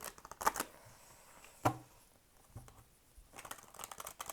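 A playing card drawn from a deck, heard as a few quick crisp riffles and snaps, with one sharp flick in the middle and softer shuffling at the end, close and quiet with no speech.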